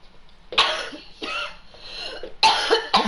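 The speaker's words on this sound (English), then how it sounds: "It's only coughing." A person coughs in harsh, raspy bursts, four separate fits close to the microphone, with rough breathing heard between them.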